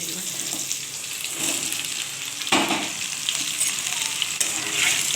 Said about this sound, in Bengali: শুকনো লঙ্কা, কাঁচা লঙ্কাটা দিলাম।